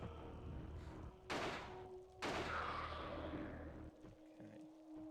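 Two sharp gunshots ring out about a second apart in Alone in the Dark: The New Nightmare on PS1, each followed by a reverberant tail over a low, quiet ambient hum.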